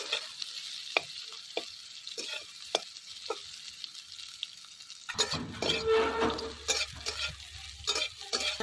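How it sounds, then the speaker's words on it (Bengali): Vegetables, bitter gourd and eggplant, fry in a pan with occasional sharp stirring scrapes over a faint hiss, then the sizzle grows loud and dense with frequent clattering strokes in the second half. "রাতে প্রায় ভাজা হয়ে গেছে একটু লাল হোক তখন নামাবো"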